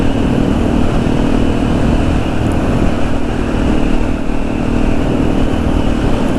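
A motorcycle rides along a road toward a series of corners, its engine a loud, steady drone with wind rush throughout and no speech.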